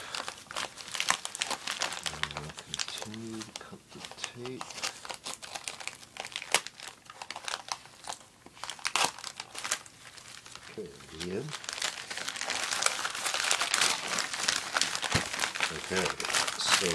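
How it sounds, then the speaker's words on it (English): Crinkling and crumpling of packing material while tape is cut and a cardboard box holding surplus German military Hensoldt Wetzlar 8x30 binoculars is opened, with tearing and rustling close up and continuous throughout, some voice underneath. "Carefully cut the tape."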